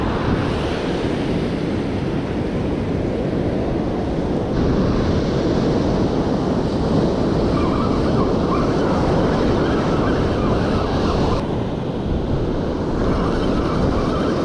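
Loud, continuous surf crashing on a rough beach at Corringle Slips in Gippsland, with heavy wind buffeting the microphone throughout; no voices.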